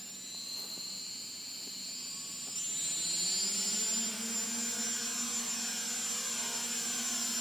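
Hubsan H216A drone motors spin up for takeoff from a platform, a high whining buzz that rises in pitch and loudness partway through and then holds steady, with no talking.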